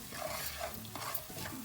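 Vegetables frying in a pan with salt, red chilli powder and turmeric give a short, soft sizzle with close stirring scrapes and light rustling.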